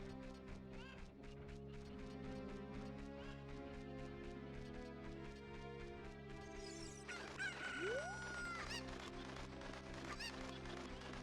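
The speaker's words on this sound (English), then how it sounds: "Alright, so there's one more chicken, and it's up here" Cucco chickens in a Zelda video game cluck and crow in repeated rhythmic bursts. A rising crow cuts in near the end over steady game tones.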